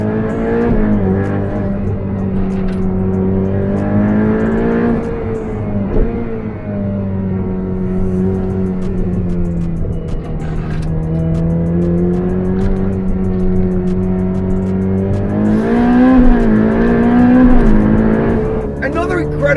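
A Ferrari 488 Pista Spider's engine drones loud and close while driving, its pitch swelling and easing through gear changes before a sharper rev rises near the end.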